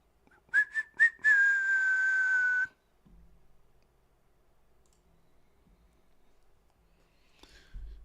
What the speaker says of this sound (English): Hopefully that whistle's not too loud